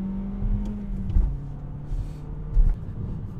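A 2019 Toyota Corolla XSE hatchback engine revs with a rising, moderately loud drone, broken by a couple of brief thumps of shifting, with no talking over it.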